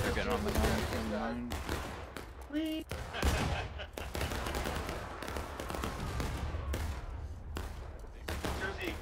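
Musket volleys in War of Rights, a Civil War shooter set at Antietam, crackle densely and continuously as ragged fusillades of independent fire, with voices calling out over the battle noise.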